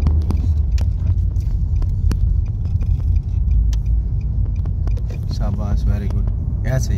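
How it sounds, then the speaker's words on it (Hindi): A manual car in a driving lesson revs with a steady, loud engine rumble that holds throughout, while voices talk over it toward the end. "तेज करो गाड़ी,"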